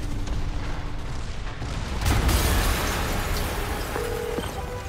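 A loud explosion booms in the Spider-Man video game, a sudden low-heavy blast around the midpoint that rolls out over continuing game noise and a faint tone near the end.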